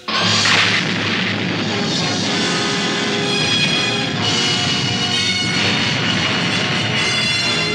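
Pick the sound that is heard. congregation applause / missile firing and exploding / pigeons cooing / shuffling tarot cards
missile firing and exploding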